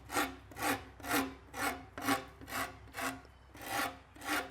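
A fine rasp files lightly along a wooden selfbow clamped in a vise, making nine even rhythmic rubbing strokes, close and fairly quiet, each a soft rasping swish with brief gaps between.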